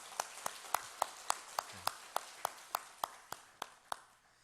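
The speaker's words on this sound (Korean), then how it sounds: "우리 하나님께 영광의 박수를 한번 올려드렸으면 좋겠습니다" During a Sunday service at Seoul Central Church, the congregation claps together in a steady, evenly spaced beat, about fifteen sharp unison claps that come across fairly quiet, with no talk over them.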